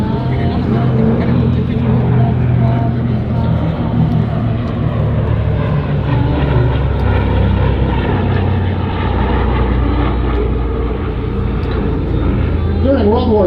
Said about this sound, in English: here is an example of the C-47 coming in from our right.